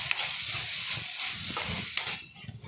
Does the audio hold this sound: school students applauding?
no